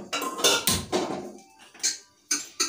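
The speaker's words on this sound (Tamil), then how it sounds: "அந்த பாத்திரத்துல அடுப்புல வச்சு கொஞ்சம் கொஞ்சம் சீனி போடணும்" Sugar spooned little by little into a pan on a stove, making a series of metallic clinks, scrapes and rattles in separate bursts, close and fairly loud, with no talking.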